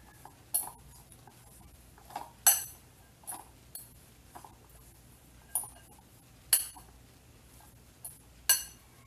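A spoon mixing singkamas (jicama) salad with lemon in a bowl, giving a series of sharp, irregular clinks and taps close by, spaced around a second apart over a quiet background.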